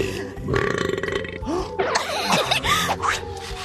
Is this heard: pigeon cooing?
no